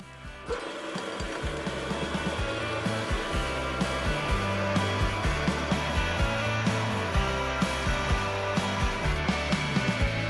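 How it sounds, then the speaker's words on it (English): A power drill whines steadily at close range, its motor pitch rising and falling slightly as it bores a hole for a cylinder head vacuum tester, with faint rhythmic knocks. "grabbed the drill bit, and now I'll start drilling."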